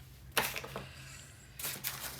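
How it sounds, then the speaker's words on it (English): A refill is clicked into a repositionable tape runner in a quiet craft space, giving a burst of small plastic clicks and rattles, a pause, then a second short flurry of snapping handling noises. "So we just place that replacement in the runner."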